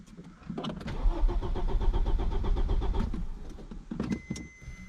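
An Audi five-cylinder engine cranks for several seconds, a rapid rhythmic churning of the starter that struggles without catching, followed by a few short separate bursts of cranking, close and fairly loud.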